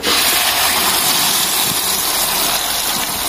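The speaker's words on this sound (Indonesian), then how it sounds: "Yuk, ini kita tumis bumbunya." Spices for a peanut sauce are sautéed in a pan, a loud steady sizzling hiss close up with no talk over it.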